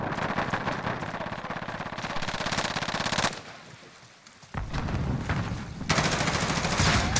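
Heavy gunfire in the shooter video game Modern Warfare 2: loud, rapid automatic bursts fill most of the clip. They break briefly for a quieter gap, then resume with renewed dense shooting.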